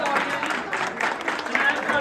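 A crowd claps steadily and warmly at a pigeon-racing prize-distribution ceremony in Sultanwind village, honouring the trainers, with a voice talking over the applause throughout.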